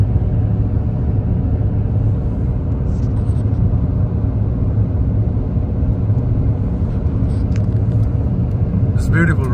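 A taxi drives along King Salman Road in Madina, its engine and tire rumble steady and close for about ten seconds, with a voice briefly speaking near the end.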